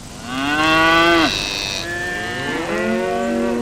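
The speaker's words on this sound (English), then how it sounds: "Mind you, the cows are only interested in chewing the cud." Cattle mooing in a field, a few long, loud drawn-out calls from close by, one low bellow rising and breaking off, followed by further overlapping moos, with no talk.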